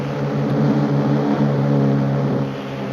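A motorbike engine in the video game Indian Bike Driving 3D gives a steady, loud droning hum with a slight rise and fall in pitch.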